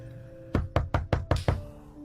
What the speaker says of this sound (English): He hears loud banging on the door